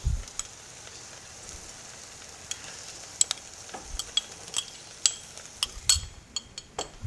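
Pork chops fry in a pan under a faint background sizzle, punctuated by scattered sharp clinks and scrapes of a utensil against the pan.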